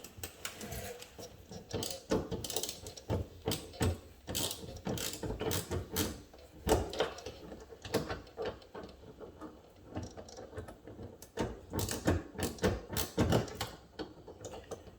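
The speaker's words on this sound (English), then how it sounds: "so I'm using a Phillips screwdriver bit here" Phillips screwdriver bit on a power driver backing screws out of a KIA Soul EX mud flap area, heard as a rapid ratcheting whir in repeated bursts, close and moderately loud with short pauses between.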